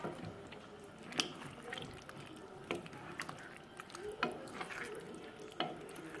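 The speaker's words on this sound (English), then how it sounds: "so now I'm just going to stir everything together" Beef stew with potatoes is stirred in a pot, giving faint wet scraping and soft clinks at irregular intervals over a low simmering hiss.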